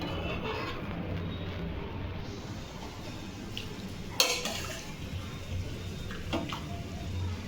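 Boiled meat with ginger garlic paste is stirred in a pan, giving a steady low sizzle and scraping hiss with an occasional sharp clink of the utensil against the pan.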